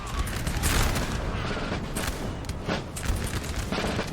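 Line infantry musket volleys in a Napoleon Total War battle: dense, continuous crackling gunfire with overlapping shots and distant booms forming a steady roar throughout.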